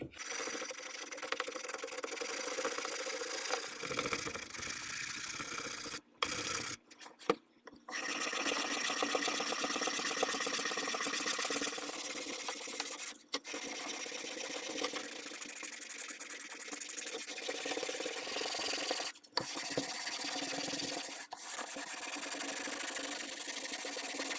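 Steady abrasive rubbing of sandpaper on a wooden military rifle buttstock, continuous scratchy strokes with a few brief pauses and no talking.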